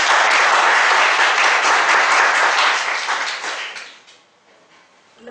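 Dense, sustained applause from an audience at a speakers' forum meeting fills the room loudly, then thins and fades out toward the end, leaving near silence.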